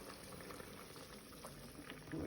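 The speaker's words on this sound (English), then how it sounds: "as you see, it's boiling" A cooking pot of liquid boils with a continuous faint bubbling and gurgling that swells slightly at the end.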